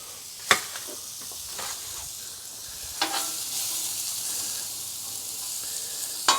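Chopped white onion browns in a pan for a patty melt, giving a moderate steady sizzle with a few sharp clatters of a utensil against the pan.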